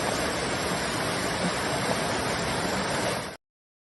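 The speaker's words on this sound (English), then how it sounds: "zone into the good vibes of a little mini waterfall as well in Pembrokeshire" Small mini waterfall in Pembrokeshire, a steady, close, full rush of falling water running unbroken and loud until it cuts off abruptly.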